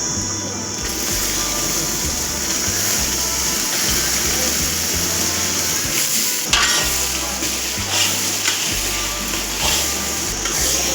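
Steady sizzling of onions frying in a pan, fairly close, with a low rumbling hum underneath.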